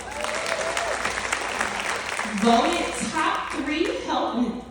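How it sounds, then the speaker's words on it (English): Audience applause at a women's leadership event, a dense wash of clapping with cheering voices and chatter rising over it partway through. "Clap it up for that."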